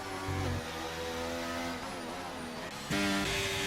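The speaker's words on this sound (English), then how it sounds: "It looks like the two McLarens battling it out here" Engines of F1 race cars, two McLarens fighting for position at Zandvoort in the F1 23 game, drone steadily with shifting revs, then a louder, higher-pitched surge near the end.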